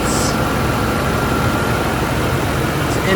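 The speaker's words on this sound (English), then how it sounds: "This engine does have a little bit of a whine." Toyota 1MZ V6 engine idling steadily under an open hood, a constant close rumble with a faint high whine running through it and no breaks.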